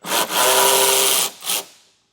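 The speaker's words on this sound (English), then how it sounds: "we also have a couple T20 screws to remove in our bumper here" A power driver spins out T20 screws from the bumper of a 2023 Buick Encore: a loud whirring run of about a second, a short break, then a second brief burst before silence.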